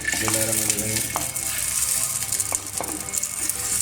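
Onions frying in oil for a beef sobat in Pakistani style, a steady close-up sizzle with a few clattering stirs and bits of spoken words.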